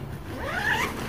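A nylon tent door zipper on a solo trekking-pole shelter is pulled in one smooth, close rasping stroke lasting about a second.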